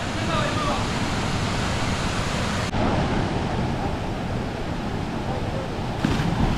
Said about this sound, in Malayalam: ഓ ഓനെ വെള്ളച്ചാട്ടം നോക്കിയാ